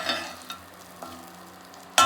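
Grated garlic frying in butter for paneer butter masala, a soft steady sizzle with a few faint stirring scrapes and a louder clatter at the end.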